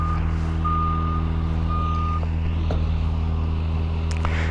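A 2018 BMW S1000RR's alarm siren, wired with the horn, beeps loudly in short bursts over a heavy, steady engine-like drone, with no talking.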